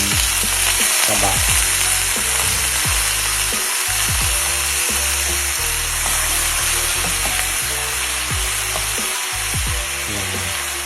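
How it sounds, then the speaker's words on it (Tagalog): Pork with its fat fries in a pan with a loud, continuous sizzle and crackle, marked by scattered utensil clinks and stirring scrapes, and no voices. "pwede na natin ilagay ang ating pork na may kasamang taba"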